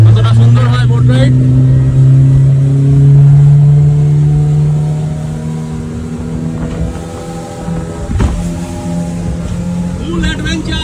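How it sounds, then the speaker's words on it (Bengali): A motorboat ride on a lake in Jharkhand: a loud, close engine drone that holds steady, then eases slightly, with voices talking briefly over it near the start and end. "তো বোট রাইড স্টার্ট হয়ে গেছে"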